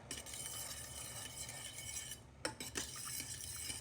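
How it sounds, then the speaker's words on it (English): Seasoned rice is stirred in a pot, a close, continuous scraping swish with metallic clinks of the utensil against the pot, briefly pausing before a few louder knocks. "Now this is my seasoned rice, guys. We're gonna stir this up."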